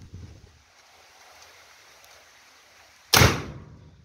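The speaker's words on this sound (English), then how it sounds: "that's my video on the Guardian 2 gas-powered scare gun" A Guardian 2 gas-powered scare gun fires a single sharp, very loud bang after a few seconds of quiet outdoor ambience, and the blast rings briefly as it fades.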